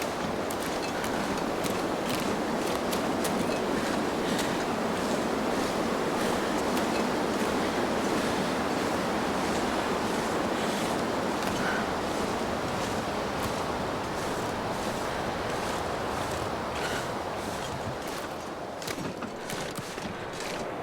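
Steady wind rushes through a snowy outdoor scene in the survival game The Long Dark, a continuous broad whoosh that holds at an even level for the whole stretch with no voices.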